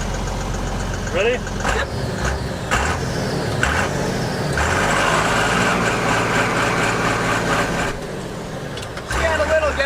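A 1970s Ford F250 converted to a tractor diesel engine idles with a heavy low rumble, then clatters and roars through a second gear launch before settling, with short spoken exchanges over it.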